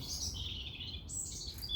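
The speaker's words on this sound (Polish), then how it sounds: "ptaszki ładnie śpiewają" Birds singing in high, continuous twittering phrases over a low background rumble, moderately distant and fairly faint.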